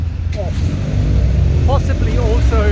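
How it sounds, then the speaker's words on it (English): Road traffic passes loudly and close by, a continuous car and engine rumble under a person speaking throughout. "excuse the traffic"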